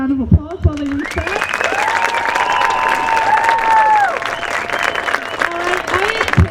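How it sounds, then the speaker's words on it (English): An audience claps and whoops after a high school band performance at an evening preview show, a loud, sustained burst of applause with scattered cheers and whistles, and a voice speaks briefly at the start. "let's give them another round of applause while they reset."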